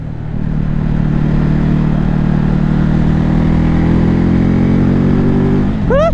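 A Ducati Hypermotard 950 motorcycle roars steadily under load while being ridden, a loud close engine drone holding a constant pitch before a brief rising rev near the end.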